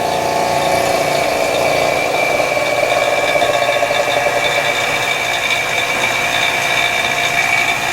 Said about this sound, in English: we're putting it in the casting machine, which is a argon atmosphere vacuum caster